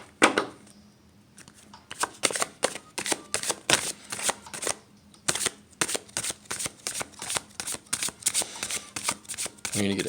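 A tarot card deck is shuffled and cut by hand, producing loud rapid riffles and slaps in repeated bursts across the whole stretch, close up and dominant.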